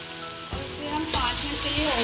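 Chicken frying with salt, black pepper and garam masala in a pot, a steady close sizzle and crackle with a scrape or stir partway through.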